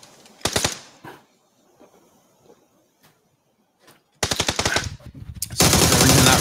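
Gunfire in the battle royale game PUBG: a short burst of rapid automatic shots, a quiet lull, then sustained loud automatic fire near the end, close and sharp.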